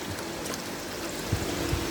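Water flow turned up in a home fish tank gives a steady close rushing and splashing stream, with a couple of faint low bubbling thumps near the end.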